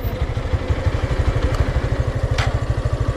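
A motorcycle engine idles close by with a steady, fast, rhythmic putter at a river crossing where bikes are loaded onto a boat.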